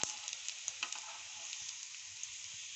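Chapli kababs frying on low heat in a pan, a soft, faint steady sizzle with a few light crackles and small taps near the start.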